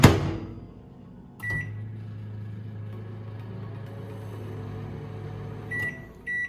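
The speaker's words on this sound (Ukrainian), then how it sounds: "Мікрохвильова піч у нас є." Microwave oven humming steadily while powered by an Edon EPH37700E electric-start petrol generator, a low continuous drone with a short start click and a few brief beeps near the end.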